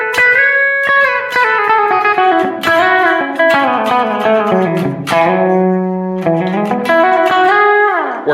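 An electric guitar through a Line 6 HX Stomp with a tin can reverb patch plays ringing sustained notes and slides. The tone is loud and boxy, with a short metallic wash of reverb and no voices.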